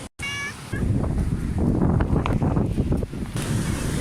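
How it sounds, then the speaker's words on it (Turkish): Waves washing onto a sandy shore at Kumla, Gemlik, Turkey, with heavy wind buffeting the microphone, a roaring, surging wash that fades a little near the end. "Dalgalar ve ben."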